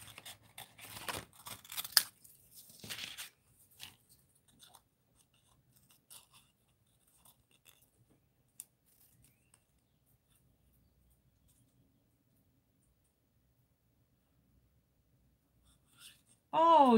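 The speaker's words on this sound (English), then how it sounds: "I might cut it down even more." Scissors cut a paper stamp piece for crafting in a few quick, close snips during the first seconds, followed by long near-silence with faint scattered handling and a brief louder sound at the very end.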